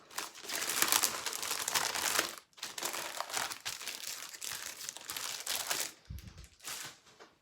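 Stamperia Alice paper is cut by hand for a mini album, a close, dry crinkling and rustling in long bursts separated by brief pauses, quiet and without talk.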